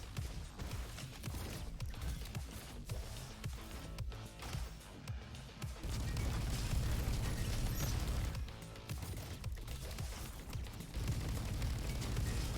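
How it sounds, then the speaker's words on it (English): Grenade launcher explosions in an indie robot and arcade video game come as a dense, continuous barrage of booms and bursts. They are loud and close, swell heavier twice, and leave no clear gaps. "Ah, grenade launcher, of course."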